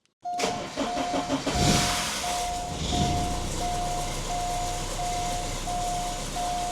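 A long-abandoned Porsche 944 engine cranks and catches, then settles into a steady idle, with a repeating electronic beep chiming over it.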